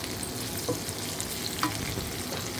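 Sotanghon noodles with chicken being stirred in a hot pan: a soft steady sizzle broken by a few light utensil clicks and scrapes, close and moderately quiet, with no speech.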